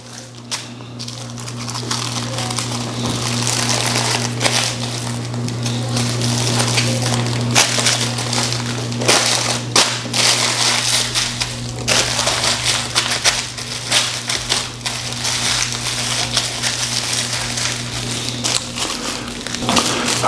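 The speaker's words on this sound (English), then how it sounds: "let's get this bad boy wrapped up" Paper is wrapped around a New York-style hot dog with red onion sauce, a steady close crumpling and crinkling that runs continuously over a constant background hum.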